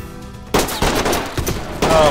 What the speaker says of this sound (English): Oh, thank you for shooting me.